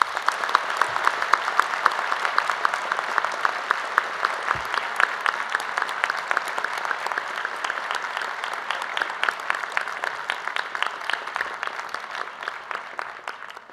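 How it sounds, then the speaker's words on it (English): Sustained applause from a large audience at a conference opening ceremony, dense rapid clapping that runs steadily for the whole stretch at moderate loudness with no talk over it. "Please give them a big round of applause."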